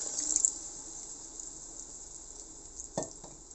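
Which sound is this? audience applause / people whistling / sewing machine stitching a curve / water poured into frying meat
water poured into frying meat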